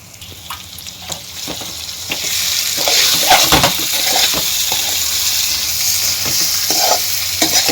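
Stuffed brinjals and leftover gravy frying in oil in a pan, a steady bubbling sizzle that grows louder after the start, broken by scattered scraping and stirring knocks from a utensil.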